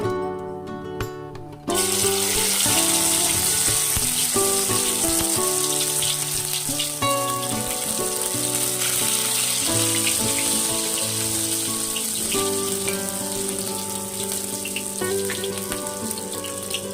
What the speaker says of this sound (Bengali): এবার আমি এই ফুলগুলোকে আস্তে আস্তে করে ভেজে নেব।